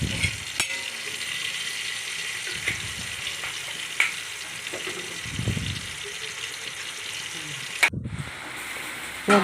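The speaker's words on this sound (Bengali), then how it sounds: "সর্ষেও দিয়ে দিলাম পাঁচফোড়নের মধ্যে দিয়ে ভালো করে ভেজে নিলাম" Mustard seeds and panch phoron spices fry in hot oil as a steady low sizzle, with a few soft stirring knocks and a sharp clack partway through, heard up close without talk.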